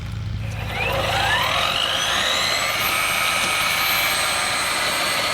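A Ryobi 40V electric rear tine tiller runs in reverse with a steady, even motor whine and rising electric tones over a broad churning hiss, close and continuous with no talking.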